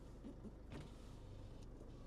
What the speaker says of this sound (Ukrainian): Чотири склопідйомники. Опускається, піднімається.